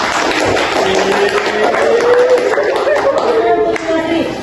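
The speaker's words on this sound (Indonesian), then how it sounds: "Oke, beri tepuk tangan" Students in a school guidance session clap together in a loud, busy patter of hands, with voices talking over the applause throughout.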